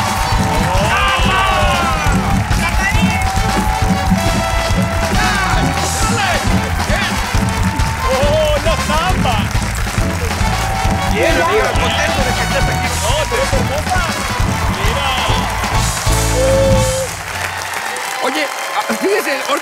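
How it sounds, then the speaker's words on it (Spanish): Studio audience applauds as two telenovela actresses, Carla Farfán and Bea Ranero, are welcomed onto a talk show; dense clapping with cheering runs loud and steady for most of the stretch under a speaking voice and music, fading out near the end. "Un aplauso para recibir a Carla Farfán y Bea Ranero"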